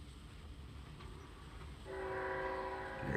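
A DCC-controlled model train starts moving on its track, a faint low rumble building midway into a louder, steady running sound with a bright whistle-like tone layered on top, heard up close without talk.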